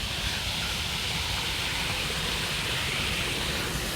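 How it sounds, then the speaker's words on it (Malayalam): Small waterfalls in a wild forest area pour with a steady, unbroken rushing hiss that stays even and fairly close throughout, with no other sounds standing out. "ചെറിയ ചെറിയ വെള്ളച്ചാട്ടങ്ങൾ"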